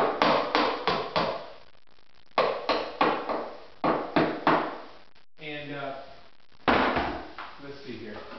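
Small nails are hammered out while an old window is removed: quick bursts of sharp, close metallic blows in clusters of three to five, separated by short pauses, with a brief spoken moment in between.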